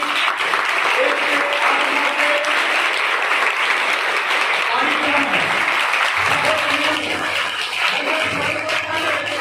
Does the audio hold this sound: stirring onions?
no